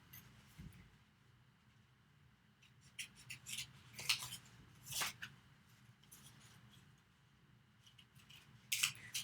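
Scissors snip through paper while cutting out shapes for a collage design, with quiet, scattered close-up snips and rustles that come in irregular bursts over a soft background hush.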